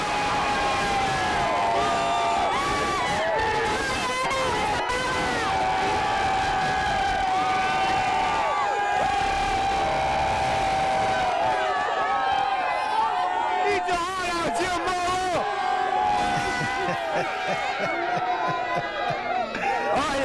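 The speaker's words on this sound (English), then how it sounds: "We've had people actually waiting here for about 30 minutes waiting to cheer" Dense crowd cheering and roaring at a New Orleans street gathering before a Saints NFL playoff game against Philadelphia, loud and sustained throughout with whistles and shouts mixed in.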